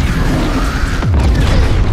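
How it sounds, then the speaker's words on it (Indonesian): A bomb explodes aboard a spaceship in a science-fiction film, giving a deep, rumbling boom with a descending sweep over a dense, noisy backdrop. "bom yang dipasang Cora meledak hingga membuat kapal angkasa itu kehilangan kendali"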